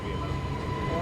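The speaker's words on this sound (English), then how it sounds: "the reason that the train is passing by slowly" Low steady rumble of a train rolling slowly past, continuous and moderately loud, with a faint tonal hum running through it.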